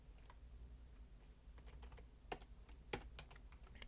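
Code is typed on a computer keyboard in a quiet room, with soft scattered keystrokes and two louder key presses.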